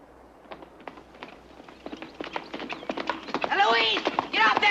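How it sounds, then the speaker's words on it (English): Horse hooves clip-clop at a walking pace, with sharp repeated clops growing busier, and a horse whinnies near the end. "Get off that horse!"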